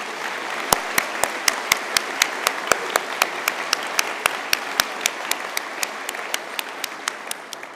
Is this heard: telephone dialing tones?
no